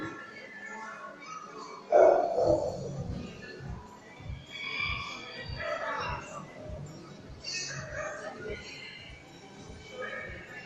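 A small, very fast dog barking and yipping during a dog sport demonstration at a fair, short sharp barks over a steady crowd murmur, with people talking nearby.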